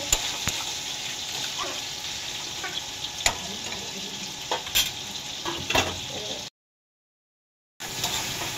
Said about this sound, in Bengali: এটা দিয়ে ভালো করে নাড়াচাড়া করে দেবো।